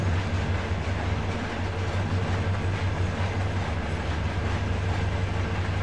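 A train in the video game Trainz rolls toward a level crossing, giving a continuous low rumble with a rhythmic wheel clatter that holds at a steady, moderate loudness throughout.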